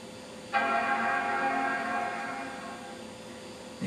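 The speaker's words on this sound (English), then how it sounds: "You can hear the boot chime." A Power Mac running Mac OS 9 sounds its startup chime: one sudden chord that rings out and slowly fades over about three seconds, near and clear in a quiet room.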